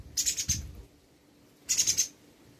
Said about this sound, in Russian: дрозд суетится, что-то там.